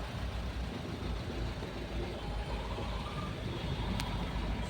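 Heavy road traffic near Electronic City, Bangalore, forms a dense, steady rumble of engines and idling trucks and buses, with a faint beep cutting through briefly.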